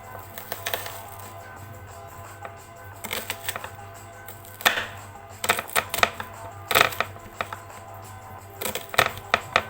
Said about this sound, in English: Now we're going to chop the onion.